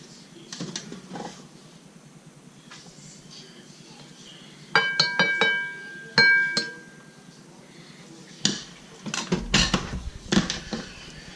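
Dishes and utensils clink in short bright taps and scrapes as rice is served onto a plate for a Trini-style curry chicken and potato meal, several clusters of close, moderate clatter with quiet gaps between.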